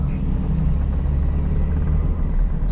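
A 2013 Perodua Viva 1.0 Elite EZ automatic idles close by, its engine a steady, loud low rumble that holds even and unbroken with no talking.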